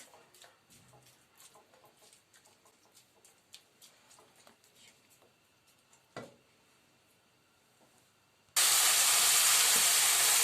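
Quiet kitchen clatter, then a sudden loud continuous sizzle and hiss of thinly chopped chicken hitting hot oil in a pan.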